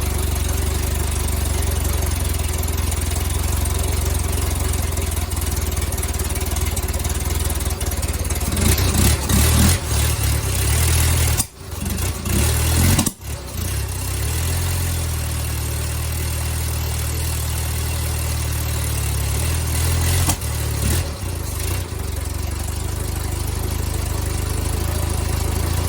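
A 1972 Fiat 850 Spider's engine idles steadily close by, a continuous low rumble with a brief dip and stumble midway before settling back into an even idle.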